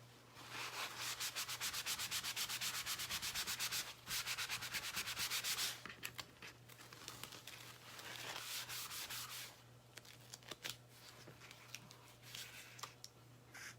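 A worn, falling-apart board eraser rubs chalk off a chalkboard in fast, close scrubbing strokes. The strokes are steady and dense at first, then turn into lighter, intermittent swipes, with no voices.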